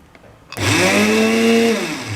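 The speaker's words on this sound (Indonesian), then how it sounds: "Sekarang saya akan blender ya. Jadi saya coba P dulu." An IDEALIFE IL-220 blender running in pulse mode crushing ice starts abruptly after a brief quiet moment, then roars with a loud, steady whirring motor and grinding rattle that holds for over a second before easing off.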